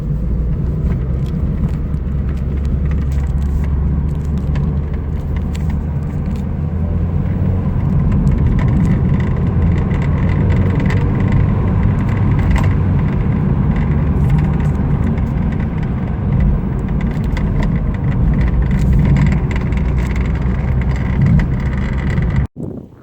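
Mazda MX-5 roadster being driven, a steady engine and road rumble with wind buffeting the microphone, continuous and fairly loud for about twenty-two seconds before cutting off abruptly.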